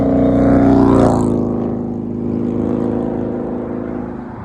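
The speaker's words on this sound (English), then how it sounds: "I'm actually glad that motorcycle came by" A motorcycle passes close by outdoors, its engine roaring loudly with a rising whine at the start and then fading into a lower drone as it moves away, with no talking.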